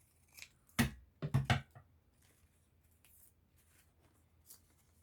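Scissors snip through paper ephemera in a few close, sharp cuts, one single clip then a quick double, followed by faint paper handling in a quiet room.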